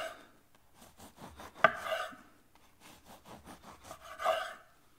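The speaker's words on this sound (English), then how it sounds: "And for the brioche, well, look at that. So what I'm going to do is I'm going to cut a few slices." A knife saws through a loaf of brioche, cutting slices in two passes of soft, rhythmic back-and-forth rasping strokes, each ending in a brief tap against the board.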